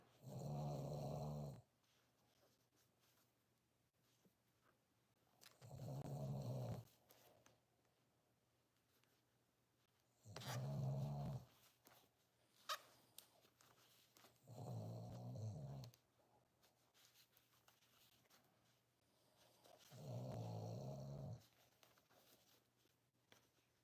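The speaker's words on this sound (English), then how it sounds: "That's Fred snoring now." A dog named Fred snores quietly in a room, five slow, even rumbling breaths spaced about five seconds apart, faint and alone.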